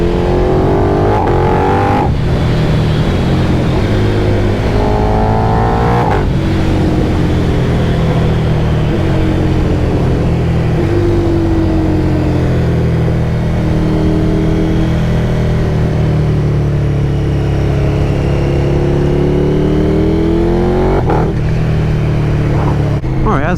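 KTM 1290 Super Duke R motorcycle engine revving and pulling hard under acceleration, a loud continuous roar with rising and falling pitch sweeps through gear changes, close and sustained throughout.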